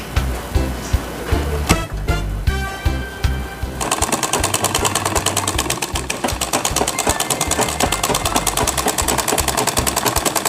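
Antique sewing machine winding a bobbin of thread, starting with a few uneven clunks and clicks, then settling into a steady, loud, fast mechanical whirr with a rapid rhythmic tick.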